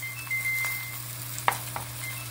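Beef chuck sears in a hot oiled pan with a soft, low sizzle over a steady background hum, broken by a couple of sharp utensil clicks.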